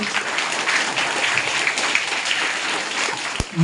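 An audience of school event attendees applauding at an umbrella distribution program for government school children, a sustained dense wash of clapping throughout, ending with a sharp thump.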